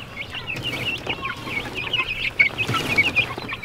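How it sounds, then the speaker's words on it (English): Farm chickens cluck and squawk in a busy, overlapping chatter, close and fairly loud, with some rustling and movement in the background. "can I get my chicken?"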